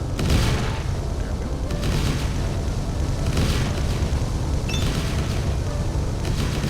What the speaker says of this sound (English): The turrets just shoot so fast and they do so much damage.